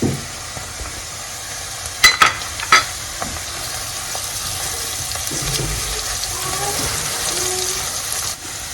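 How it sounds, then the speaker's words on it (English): Ginger garlic paste dropped into a hot pot for jollof rice, a brief burst of sharp crackles near the start settling into a steady, moderate sizzle that continues until a cutoff near the end. "Go ahead and add our ginger garlic paste."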